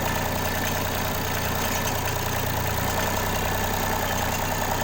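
A tractor engine idles on a wheat farm, a low, steady rumble with a continuous chugging texture, moderately distant and unbroken, with no one talking.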